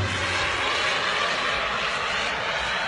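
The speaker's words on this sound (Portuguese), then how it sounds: "E o motor aplicado." A jet aircraft engine roars during an aerobatic manoeuvre. The sound is a loud, continuous, dense wall of engine noise that holds steady for the whole stretch, with no voices.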